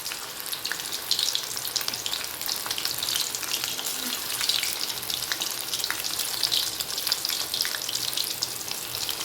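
Prawn roast masala fries in a pan, giving a steady close sizzle and crackle with soft stirring scrapes throughout, with no talking.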